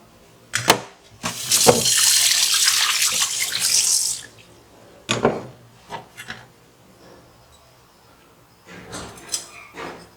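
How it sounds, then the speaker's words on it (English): Crabs being washed for a Ghanaian abunabunu soup under a running tap: a steady rush of water for a couple of seconds, then knocks, clatter and short splashes as the shells are handled in a sink. "Right now, I'm going to wash the crabs."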